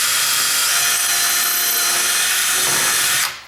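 A power drill bores a hole near a door hinge while fixing a loose door, sounding as a loud, steady, high-pitched whine that runs continuously, then cuts off abruptly near the end.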